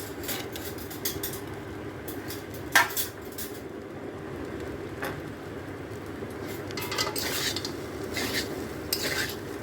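Fried vegetables, cashews and raisins are mixed in a pot with a spoon. Soft scraping and clinking strokes recur over a steady low cooking hum, with one sharper knock, close up and with no talking.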